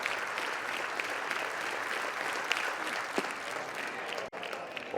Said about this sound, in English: Crowd making noise, wanting that final out.